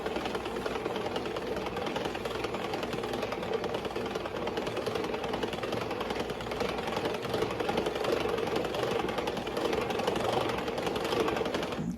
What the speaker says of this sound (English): We're going to keep it in gear 1 because it's still thin enough. And we're going to mix that flour in.